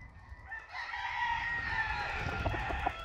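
A rooster from a breeder's flock crows once, a clear, fairly close call rising and holding over faint background noise.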